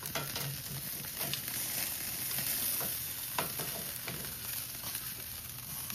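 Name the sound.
chicken sizzling on a braai grill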